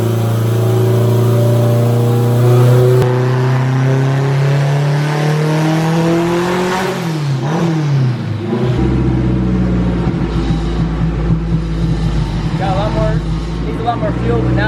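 An AWD K-swap car engine revs hard on a dyno, a loud, continuous roar climbing and dropping in pitch as the throttle changes, very close and dominating, with no speech over it.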